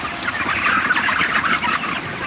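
Broiler chickens packed in a chicken house ahead of catchout, a steady dense chorus of clucking and chattering from many birds, close and continuous with no talk.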